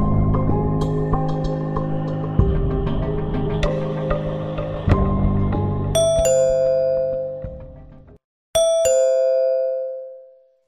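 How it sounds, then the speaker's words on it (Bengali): Doorbell sound effect in a Bengali detective audio story, sounding over a sustained musical background, then two clear bright ding-dong chimes ring out alone and decay into silence. "টিংটং করে কলিং বেলটা বেজে উঠল"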